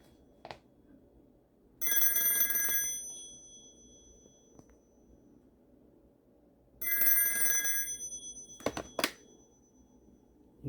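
An old rotary telephone's mechanical bell rings loud and close in two long metallic bursts separated by a pause. A few sharp clicks and rattles follow near the end.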